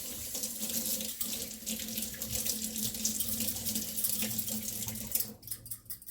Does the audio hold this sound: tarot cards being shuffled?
no